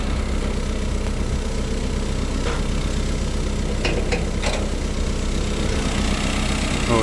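A 1989 Chevy S10 Tahoe with the Iron Duke 2.5-litre four-cylinder idles steadily with a low, constant engine hum, with a few faint brief clicks partway through and no talk.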